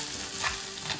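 A hot Korean stone pot (dolsot) dish sizzles steadily, a close, continuous frying hiss with a bright crackle and no voices.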